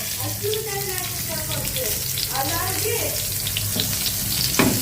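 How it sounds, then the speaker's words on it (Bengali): Eggplant coated in turmeric and salt frying in hot oil, a steady sizzle with bubbling, water-like crackle running throughout under faint background voices. "তো হলুদ আর লবণ দিয়ে মাখায় রাখছি বেগুনটা এখন ভাজবো"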